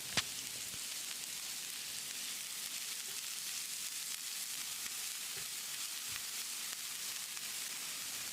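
Chopped onion frying in oil on a dosa tawa gives a soft, constant sizzle with a few faint clicks, quiet and close, with no voices.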